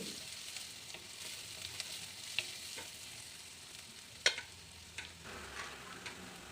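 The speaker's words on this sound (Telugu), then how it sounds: "ఉప్పు రెండింటిని వేసి ఆనియన్స్ని బాగా వేయించుకోవాలి" Onions frying with salt and turmeric in a pan for a mushroom, pea and potato curry: a low, steady sizzle broken by several sharp spatula taps and scrapes, one louder knock standing out, heard close and without speech.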